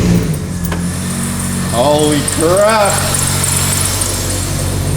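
A Ford AU Falcon engine with a deep, throaty aftermarket exhaust idles steadily throughout, with a couple of short rising revs midway and a person speaking briefly over it.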